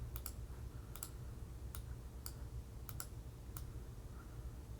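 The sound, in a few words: typing on a computer keyboard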